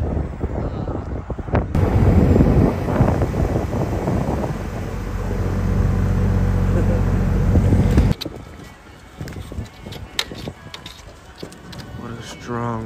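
Strong gusty wind buffets the microphone outdoors, a loud, broadband roar that rises and falls for several seconds before dropping to quieter rustling, with a person talking briefly.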